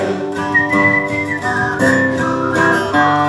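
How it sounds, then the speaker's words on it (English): A tin whistle plays a lively melody alone, bright sustained notes stepping up and down at a steady pace, close and clear. "Let's hear the whistle."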